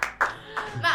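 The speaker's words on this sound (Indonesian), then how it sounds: "Guys, tepuk tangan buat Caca dong, netizen." Brief scattered hand clapping in a casual talk-show studio, a few separate claps at uneven intervals, near and moderately loud with a voice briefly present.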